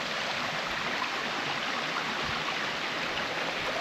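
A mountain stream in Norway rushes steadily in a dense, continuous broadband wash, close and constant without pause or talking.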